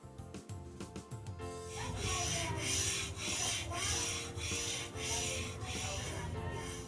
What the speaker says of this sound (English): I rub it on the top of the glass with the particles of sandpaper in horizontal motion many times.